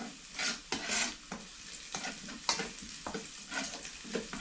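Onion and garlic sautéing in a pan for spaghetti sauce, a soft sizzle punctuated by rhythmic spatula stirs, close but fairly quiet.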